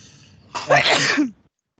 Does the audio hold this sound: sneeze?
yes